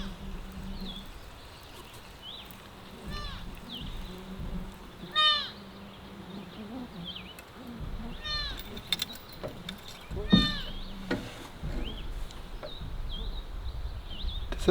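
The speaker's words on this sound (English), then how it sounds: "Does that sound like a baby moose calf?" Odd, faint animal calls ring out several times, short bleating or mewing cries over a quiet outdoor background with soft rustling.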